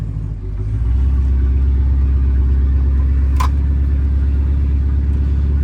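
A custom Turbago car's engine drones loud and steady while driving, a deep continuous rumble with one brief sharp click partway through.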